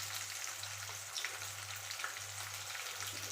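Tomato and chopped onion fry in a pan for chicken sukka, a steady, moderate sizzling crackle with faint stirring scrapes over a low hum, close by and without talk.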